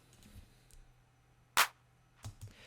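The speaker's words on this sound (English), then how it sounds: "for the snare, I've chosen a pretty standard clap" A standard clap sample serving as the snare in a beat built in Ableton Live, one sharp bright snap standing out alone, followed by softer clicks against a faint low hum.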